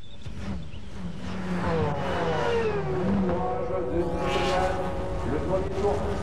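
A Porsche 911 GT1 race car's engine rises and falls in pitch as it accelerates past on a racetrack, heard under steady commentary.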